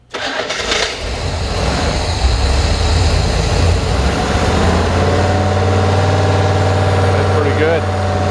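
An engine cranks and fires, then settles into a loud, steady idle with a rumbling low drone that carries on throughout, voices talking over it in a garage.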